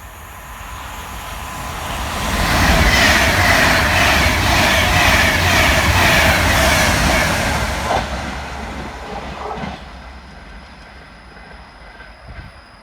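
A Northern passenger train pulls away from Chelford railway station, its engine and wheels building to a loud, steady roar before fading as it departs, leaving quieter platform ambience.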